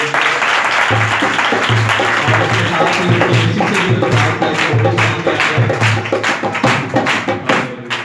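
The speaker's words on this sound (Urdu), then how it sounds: "زوردار تالیاں اسی سرفراز کے لیے" A church audience claps loudly and steadily for Pastor Sarfraz at a Sunday sermon. The applause is dense and sustained, with soft thumps underneath and some voices mixed in.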